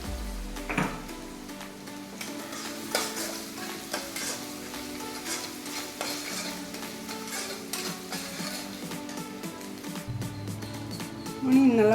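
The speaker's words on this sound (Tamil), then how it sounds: "ஆனியனும் டக்குன்னு வதங்கிடும்." Onions sautéing in a pan for a smoked brinjal and capsicum paruppu usili, a steady soft sizzle with scraping and stirring clatter throughout, close up, no talk.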